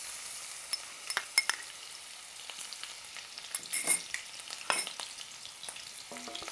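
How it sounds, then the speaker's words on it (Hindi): Grated ginger and garlic sauté in a tablespoon of hot oil, a faint steady sizzle broken by sharp crackles and stirring clicks against the pan, close and uninterrupted by speech. "इसको हल्का सा सौते करूंगी।"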